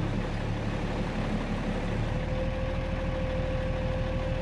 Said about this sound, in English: Idling up just a touch.